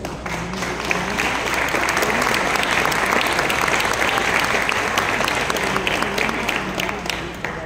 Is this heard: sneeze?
no